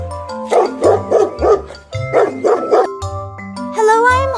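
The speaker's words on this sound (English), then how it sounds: "My name is Dog. I bark." A dog gives two quick rounds of loud, close barks, a few sharp woofs each, over a bouncy musical backing, ending with a brief rising whine.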